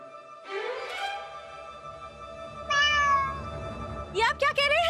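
A cat in a royal-court drama gives three drawn-out meows, the last one rising and broken, close and fairly loud over a faint room hum.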